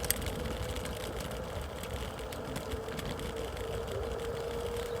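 An Evercross EV08S electric scooter accelerates in speed mode 3 with a rider aboard, a steady mid-pitched motor whine that rises slightly over rushing wind noise, with no talking.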